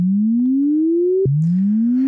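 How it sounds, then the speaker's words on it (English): An Ableton Operator synthesizer plays a sawtooth-shaped tone, a loud, clean pitch that ramps steadily upward, snaps back down, then climbs again. "And you have sawtooth waves."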